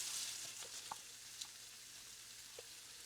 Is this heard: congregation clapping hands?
no